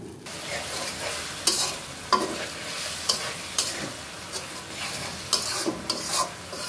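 Spice paste for a thin catfish curry sizzles steadily in a pan while a spatula scrapes and stirs it, the irregular knocks of the stirring rising clearly above the frying hiss at close range.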